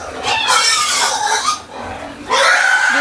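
A pig squeals loudly and continuously while being carried from a crowded pen on a farm, shrill broadband cries in two long bursts separated by a brief dip.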